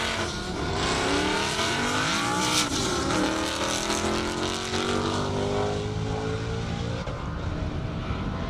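A 1,000-horsepower drag racing car nicknamed the Flying Banana launches on an airport airstrip drag course, its engine roaring loud and rising steadily in pitch as it accelerates, a sustained harsh blare filling the whole stretch.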